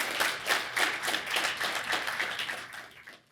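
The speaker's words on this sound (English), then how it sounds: "Let's have a round of applause." An audience at an evening event with a New Jersey Assembly Republican leader gives a short burst of applause, dense steady clapping that fades toward the end.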